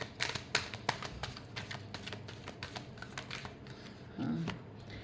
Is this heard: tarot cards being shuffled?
yes